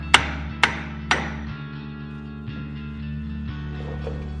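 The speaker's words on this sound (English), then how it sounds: "So I'm just going to try to hammer at the top." A hammer strikes a BMW X5 E70 front wheel hub three times in quick succession, sharp metallic clanks ringing out in a garage, followed by fainter knocks.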